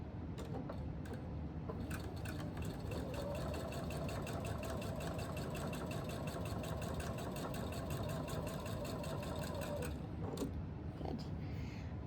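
A sewing machine stitches a quilt block, a rapid even mechanical whir running steadily for about ten seconds before stopping, close and fairly quiet, with no talking.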